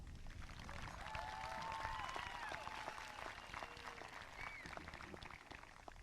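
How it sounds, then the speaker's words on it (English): Applause at an outdoor high school graduation ceremony for the class of 2021: distant, even crowd clapping heard faintly for several seconds, with some cheering voices rising briefly above it. "so please give us a round of applause."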